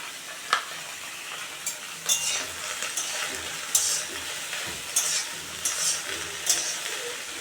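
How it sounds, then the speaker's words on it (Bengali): Black cumin seeds fry in hot oil for a prawn and jackfruit-seed bharta, giving a constant crackling sizzle with sharp intermittent clicks and scrapes from stirring, close and alone. "আমি এক চামচ কালো জিরে দিয়ে দিচ্ছি ভেজে নিলাম এটার সঙ্গে"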